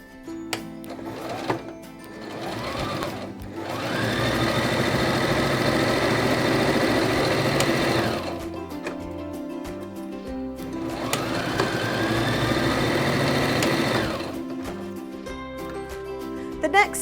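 Sewing machine stitching fabric for a wrap skirt, two steady whirring runs of several seconds each with a rising motor pitch, separated by a pause with handling clatter, close and clear.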